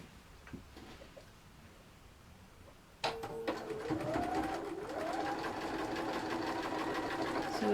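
A sewing machine stitching two pieces onto a quilt block starts up after a quiet pause, then runs with a steady mechanical whir and rising and falling motor tones.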